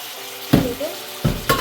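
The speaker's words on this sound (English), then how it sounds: "Add some cold water." Cold water poured into a hot pan while cooking sweet and sour pork, with a couple of sharp sizzling bursts and a brief stir between them over a quiet background.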